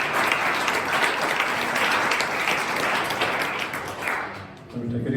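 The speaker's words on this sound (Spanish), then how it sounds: "Un aplauso para él." Sustained audience applause at a religious gathering, dense and steady for about four seconds, easing briefly before swelling again near the end.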